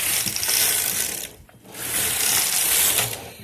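A knitting machine carriage, the sk360, runs across the needle bed knitting lace fabric from a thick and a thread-like yarn, making a loud close clattering ratchet-like rattle in two passes with a brief dip between.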